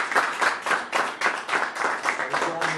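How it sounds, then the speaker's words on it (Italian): An audience claps for a band from Palermo at a radio evening show, with a dense, steady crackle of many hands close by, pulsing slightly in rhythm for a few seconds. "accogliamo con un applauso questo gruppo, questa band che arriva da Palermo"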